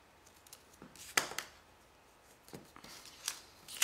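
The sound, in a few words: scissors cutting ribbon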